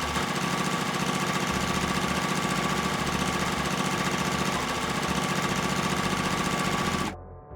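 A sewing machine runs steadily at high speed while stitching quilt rows together, a loud, continuous mechanical whir that stops abruptly near the end.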